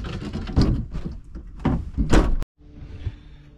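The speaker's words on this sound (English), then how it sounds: "We should now be able to close the door." The sliding door of a Daihatsu Mira van rolls along its track with scraping and clunks, then shuts with a sharp, loud slam, followed by quieter interior hum.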